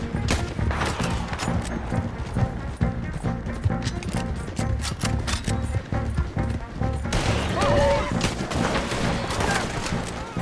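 Heavy, rapid gunfire in Red Dead Redemption 2 during a chaotic battle. Dense volleys of shots crackle nonstop, some close and others further off. Horses clip-clop beneath them and game characters shout over the fire.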